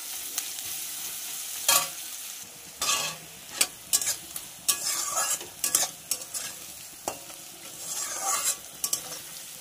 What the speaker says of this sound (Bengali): পেঁয়াজটা আমি এবার একটু লাল লাল ভেজে নেবো।